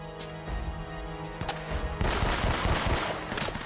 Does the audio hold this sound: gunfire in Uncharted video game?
yes